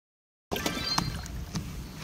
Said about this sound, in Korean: 지금 물 빠지는 소리 들리셨죠?